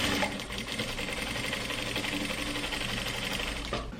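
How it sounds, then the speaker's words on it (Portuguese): A sewing machine stitches a puffed sleeve onto a trapeze dress bodice, running in a fast, steady whir up close and continuing for the whole moment before stopping abruptly at the end. "Agora eu vou passar uma costurinha aqui unindo, ó, a manga e a parte do corpinho do vestido."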